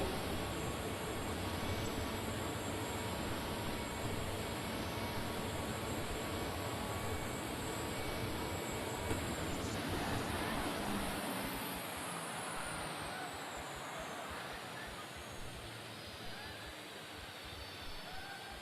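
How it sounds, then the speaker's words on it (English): Turbine engines on a tractor pulling machine at the National Farm Machinery Show roar steadily with a high whine, a loud sustained rush that eases slightly toward the end. "will again begin to build the heat into those turbines to get ready to go pulling"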